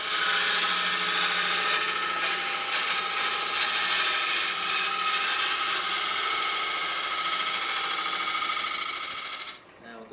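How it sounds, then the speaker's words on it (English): A wood lathe tool cuts a maple burl bowl, making a loud, steady, hissing whir of the cut against the spinning wood. The sound carries on unbroken for about nine seconds, then drops off abruptly near the end. "You can hear there's an intermittent cut."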